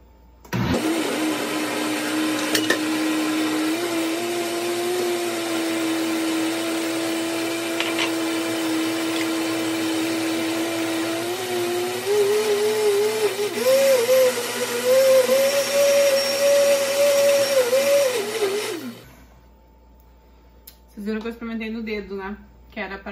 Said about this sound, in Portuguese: a gente vai colocando aqui com o liquidificador ligado mesmo aos poucos